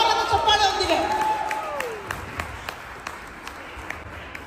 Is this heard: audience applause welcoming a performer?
yes